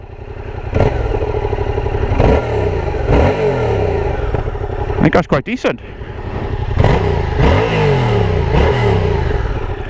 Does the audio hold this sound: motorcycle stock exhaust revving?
yes